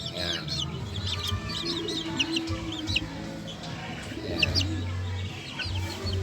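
Sebright chickens in a small coop cluck repeatedly up close, with scattered short calls and faint chirps over a quiet background.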